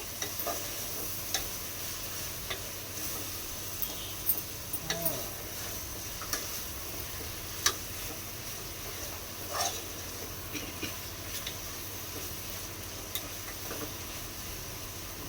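Food frying in a pan crackles with a steady, fairly quiet sizzle throughout, while a utensil stirs it and gives small irregular scrapes and taps.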